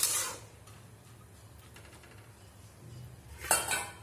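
Moong dal with bottle gourd stirred in a pot, a few clinks and knocks of a spoon against metal at the start and end with quiet bubbling between, near and soft, no talk.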